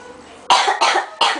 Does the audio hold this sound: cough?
yes